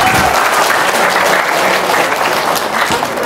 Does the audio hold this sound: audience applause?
yes